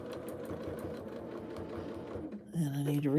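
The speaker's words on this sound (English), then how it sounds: "I'm just going to quickly stitch in. It's not really the ditch, but it just outside the applique" Long arm quilting machine stitching just outside an appliqué, a steady close mechanical hum of rapid stitches, with a voice speaking over it near the end.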